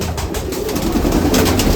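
Pigeons in a breeding setup in Nashik coo nearby, soft low throaty calls repeating under a light background hum, with no speech.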